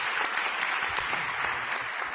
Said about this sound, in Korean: 오늘도 이 밤에 임하시는 살아계신 하나님께 우리 감사의 박수 올려드리시겠습니다